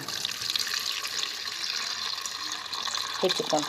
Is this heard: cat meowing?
no